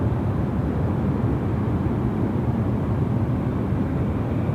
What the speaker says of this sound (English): It's the A330-300 making their way. And, they'll be departing to Kuala Lumpur tonight